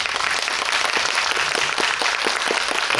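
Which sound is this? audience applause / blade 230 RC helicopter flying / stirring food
audience applause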